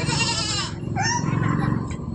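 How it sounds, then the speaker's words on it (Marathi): Goats bleat close by in a quick series of wavering cries, with some background voices mixed in. "इकडे शेळ्या बांधले मित्रांनो"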